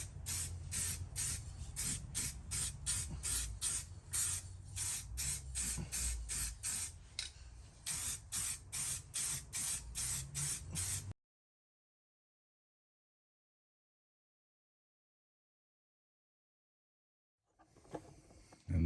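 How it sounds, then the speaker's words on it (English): Short bursts of aerosol spray paint hiss onto a steel wheel of an Austin hearse in a quick, steady rhythm for several seconds, then stop, leaving silence before a faint clatter at the end. "So let's get spraying."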